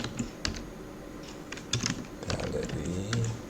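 Someone types CSS code on a computer keyboard, irregular clusters of crisp key clicks close to the microphone, with small pauses between bursts and no talking.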